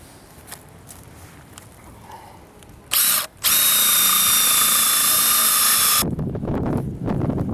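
A power drill with a 35 mm bit bores holes in wood for table legs, a loud high-pitched whine that starts in a short burst, pauses briefly, then runs steadily for about three seconds before winding down.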